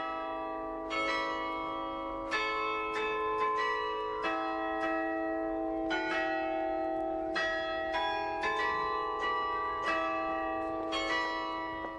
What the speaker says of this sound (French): des carillons égrènent les heures